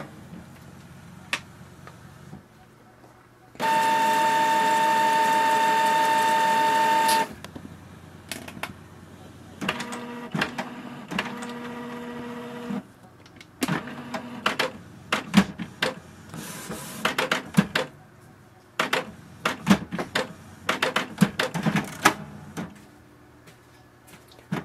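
A Canon printer shutting down after its power button is pressed, with a steady loud mechanical whir for a few seconds, followed by irregular clicks, clunks and short motor runs from its internal mechanism.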